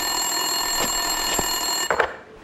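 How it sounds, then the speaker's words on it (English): An in-game desk telephone rings in an office in the video game Max Payne 2, a steady electronic ring over a constant hum with a few soft clicks and thumps, fairly loud, with no talk. "Winterson's phone was ringing."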